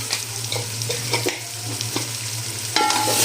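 Green chillies, tomatoes and turmeric are stir-fried in a pan, giving a close, continuous sizzle broken by quick scraping stirs and a brief clink, with no voices.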